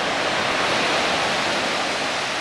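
Steady, loud wash of ocean waves at Avila Beach at night, a continuous broadband roar of surf with no voices.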